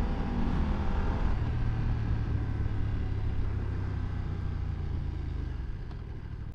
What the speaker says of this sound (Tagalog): Ang lakas ng kanyang engine braking.